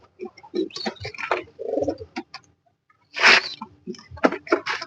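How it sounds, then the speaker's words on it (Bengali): A racing pigeon coos in a loft in short bursts of low, throaty calls, close to the microphone, with brief quiet gaps between calls. "আমি আমার সব থেকে বেস্ট কোয়ালিটির কবুতরটা আপনাদেরকে দেখাচ্ছি।"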